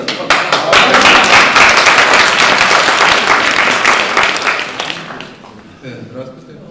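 A crowd applauds loudly at a gathering in Giżycko, sustained dense clapping that gradually thins and fades over several seconds.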